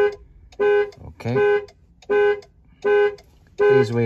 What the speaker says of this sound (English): Yes, alarm is active.